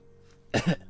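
A short burst of two harsh, deliberately fake coughs sounds close and loud, voiced as a character in a visual novel game.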